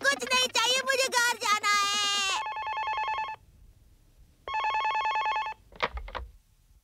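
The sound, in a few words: telephone ringing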